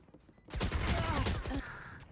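Gunshots ring out during a ranked Valorant round on the Fracture map, a short burst of sharp rapid shots at moderate level, with faint voice and game sounds around them.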